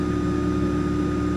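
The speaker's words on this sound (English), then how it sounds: "My idle seems pretty steady." A Nissan 350Z idles at a steady, even drone, close and constant with no change in revs, and no one speaks.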